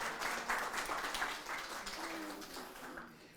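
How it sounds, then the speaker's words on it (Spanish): A church congregation claps together in a quiet burst of diffuse applause that fades slightly toward the end, heard from a distance. "Vamos a darle un aplauso al Señor en esta mañana"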